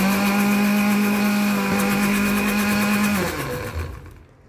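A kitchen blender whirs steadily as it mixes cake batter with milk, a loud constant motor hum that runs for about three seconds, then winds down and fades to quiet.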